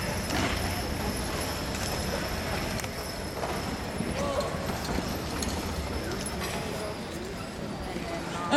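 Horse hooves clip-clopping as a horse pulls a carriage or wagon at a farm show, steady and continuous, mixed with crowd noise and talk.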